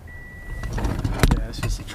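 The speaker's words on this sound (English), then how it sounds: "it's just the truck beeping" A 2017 Toyota Tundra pickup cabin just after the truck is switched on, with a short tone followed by clunks, rustling and handling noises nearby, and faint voices in the background.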